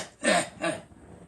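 A person imitates a fake cough, drawing a breath and producing two short forced hacking bursts close to the mic, fading into quiet.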